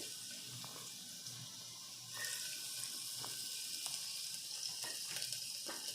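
Chopped garlic drops into hot ghee for a soup and starts a soft, steady sizzle partway through, with faint crackles and pops under the hiss.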